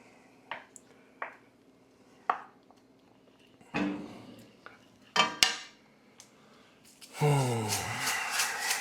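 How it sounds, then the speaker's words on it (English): Food stirred in a pan taken off the heat: scattered close metallic clinks and scrapes of utensil on pan, sparse at first, then denser scraping toward the end. "So I'm taking it off heat to stir"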